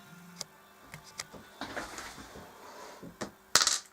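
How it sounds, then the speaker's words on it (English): Four dice rolled through a dice tower during a Mansions of Madness board game session, giving light hollow clicks and rattles as they tumble, ending in a sharper clatter as they land. "So we roll 4 dice."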